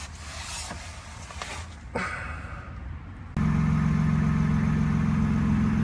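A 2024 Ford Ranger idles with a Flowmaster 40 Series exhaust, a low steady rumble that swells suddenly to a louder, deeper drone partway through, heard alone with no talking.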